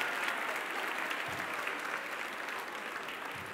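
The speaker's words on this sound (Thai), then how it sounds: "ให้เราปรบมือขอบคุณพระเยซูด้วยกัน" A church congregation claps together in thanks during a Sunday morning worship service marking the church's twelfth anniversary, a soft, distant but steady patter of many hands lasting a few seconds.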